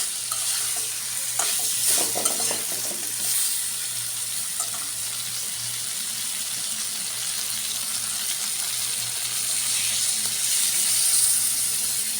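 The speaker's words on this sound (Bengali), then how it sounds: "তরকারি নিয়ে এখন জল দিয়ে দেবো" Curry frying in a pan as water goes in, giving a steady, loud sizzling hiss with bubbling and faint stirring throughout, continuous with no pauses.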